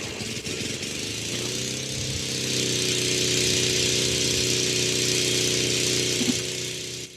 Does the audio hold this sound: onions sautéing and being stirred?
no